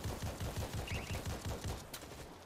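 SCAR rifle firing in World War Z, a rapid, rhythmic string of distant-sounding shots at a steady cadence of roughly seven rounds per second, muffled and fairly quiet, no speech.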